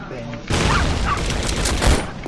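Gunfire in the online shooter Sudden Attack: a dense, loud burst of rapid shots begins about halfway in and continues steadily to the end, with a heavier thump near the close and faint voices underneath.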